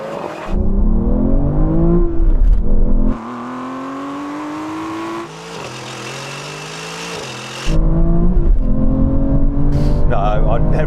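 An Aston Martin car accelerating hard in a drag race, loud engine roar climbing through gears with brief drops between shifts, close and dominant, with voices talking underneath.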